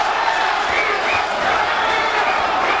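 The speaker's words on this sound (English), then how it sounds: "The crowd getting behind Gamboa, Yambito, they're chanting." Boxing arena crowd at a Gamboa fight chanting the fighter's name Yambito, a loud sustained mass of voices with rising whoops and cheers, dense and continuous throughout.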